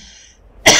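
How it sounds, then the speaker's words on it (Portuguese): A single loud, close cough bursts out abruptly near the end, following a stretch of near silence. "É um maldita tosse."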